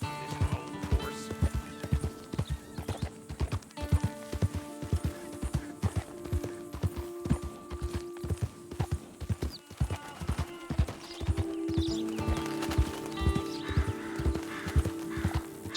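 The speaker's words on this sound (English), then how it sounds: "Damn, this old horse." Horse hooves clip-clop steadily at a walking pace in the Western video game Red Dead Redemption 2, with an occasional whinny and faint background music or ambience; no talk over it.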